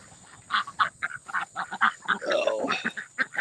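Ducks quack in a rapid run of short, nasal calls on a farm with chickens nearby, loud and close, with one denser burst of overlapping quacks partway through.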